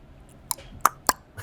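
A person imitates the tongue clucking noise from the horror film Hereditary, producing three sharp, wet clicks spaced apart, close and fairly quiet against a hushed background.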